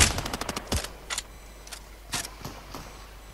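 Gunfire from a battle in Fortnite, heard as a rapid burst of sharp shots followed by a few separate cracks spaced out over a few seconds, fairly close and clear with no talking.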